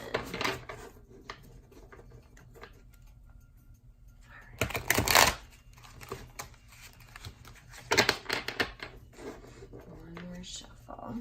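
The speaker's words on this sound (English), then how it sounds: "One more shuffle." Tarot cards are shuffled in bursts, crisp riffling and flicking at close range, with a loud rapid shuffle in the middle and shorter ones around it, separated by quieter moments.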